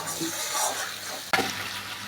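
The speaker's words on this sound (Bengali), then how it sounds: "আমি জল দিয়ে দিচ্ছি।" Water goes into a pan of hilsa fish curry as a brief rushing pour with splashing, a sudden sharper gush partway through, and then a continued pour with no voice over it.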